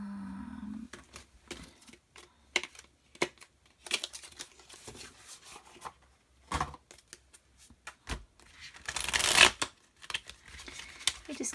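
A tarot card deck being shuffled, with a run of soft riffling and sliding card sounds broken by short pauses and a louder flurry near the end, close and fairly quiet with no talking.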